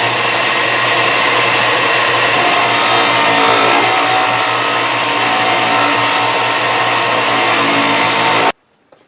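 Power sander running steadily while squaring off a custom Mora knife handle, a loud continuous whirring grind for several seconds, then abruptly cut off.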